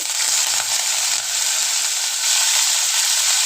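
Fresh curry leaves and cumin seeds hit hot oil for a breakfast dish, giving a loud, steady, close sizzling hiss that holds without a break, with no talk.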